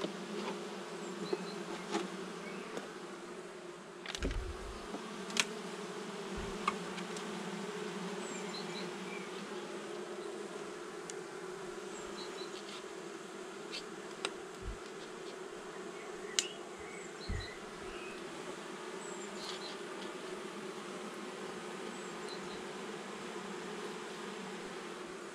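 Honeybees humming steadily around an open hive during an early spring inspection in March, a continuous close drone with occasional louder buzzing passes and faint clicks, no voices.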